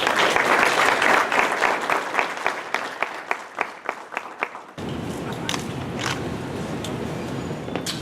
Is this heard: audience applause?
yes